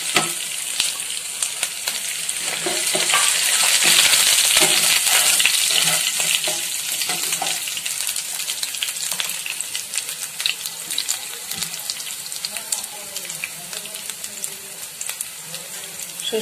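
Black mustard seeds hiss loudly as they hit hot frying oil alongside chopped chillies, making a steady close sizzle with faint popping and crackling throughout, and someone talks briefly over it.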